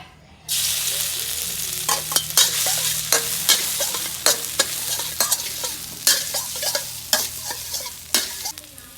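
Holy basil stir-fried in a hot pan with squid, shrimp, pounded chili and garlic: a loud, steady sizzle starts abruptly, overlaid by rhythmic spatula scrapes and clanks against the pan, with no voices.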